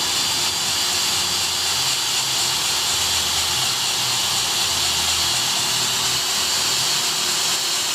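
An electric drill spins a car engine valve against its seat for lapping, giving a steady, continuous whirring hum with a bright hiss that stays even throughout, close up, with no talking.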